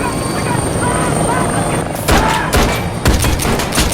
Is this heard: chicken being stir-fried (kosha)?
no